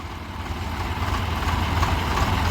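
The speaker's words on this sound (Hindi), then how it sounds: "दोनों ट्रैक्टर आइडियल आरपीएम पे हैं।" Two tractors, a Swaraj 735 and a New Holland 3630, run their engines with a steady low diesel rumble and drone, fairly close and continuous, building slightly in loudness.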